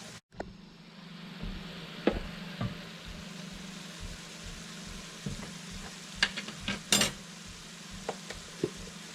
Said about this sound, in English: I browned my Italian sausage and added some green onions